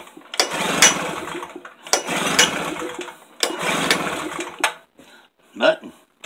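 A Tailgator portable generator's small engine being pull-started, cranking in three long sputtering bursts that fail to catch, then a shorter final attempt, close by and fairly quiet between pulls.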